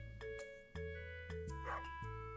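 Dusty the dog in Stardew Valley Expanded gives short game barks, a few clipped woofs sounding over steady tonal game music, close and fairly loud.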